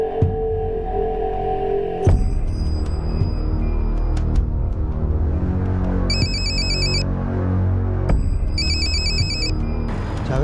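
A phone ringtone plays loudly in repeated bursts of bright electronic chirps over dramatic background music, ringing several times without pause.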